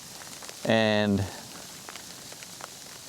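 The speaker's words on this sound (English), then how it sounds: "sleet slash freezing rain" Heavy sleet and freezing rain patter steadily on a surface, a continuous soft hiss with scattered ticks, briefly interrupted by a man's spoken word near the start.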